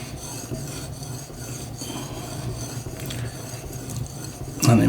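A Deba knife is drawn over a whetstone to refine the micro bevel, giving repeated soft gritty scraping strokes in a steady back-and-forth rhythm, close and moderately quiet, with a sharper knock at the end.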